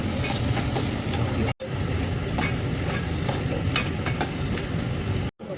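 A ladle scrapes and churns raw mango curry in a frying pan, making a continuous close sizzle with rhythmic stirring strokes, interrupted by two brief silences.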